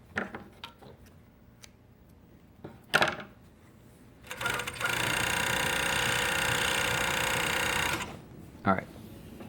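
A Juki MF-7523 coverstitch machine sews a top and bottom cover stitch in a loud, steady mechanical whir of about three and a half seconds, preceded by clicks and short handling noises and followed by a brief knock.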